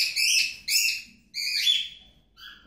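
Yellow lutino cockatiel giving several bright, close chirps in quick succession, four loud calls with short gaps, the last one softer.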